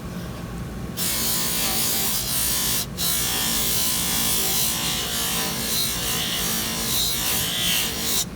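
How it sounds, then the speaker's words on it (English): A denture is pressed against a large spinning polishing wheel, a continuous abrasive rubbing whir that starts abruptly, cuts out briefly, then carries on steadily and close up. "Try to polish as much as you can with a big wheel."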